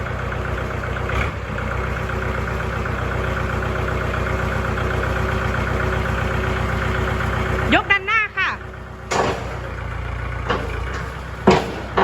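A used 2020 Kubota L5018 farm tractor diesel engine idles steadily and evenly up close, with a voice speaking over it and a few short knocks and clatters near the end.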